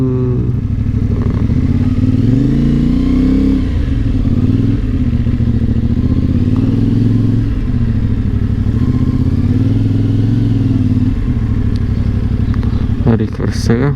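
A motorcycle engine idles and rumbles close by during parking on a ride along the Adriatic coast in Slovenia, a loud low throb with some pitch shifts and clatter near the end.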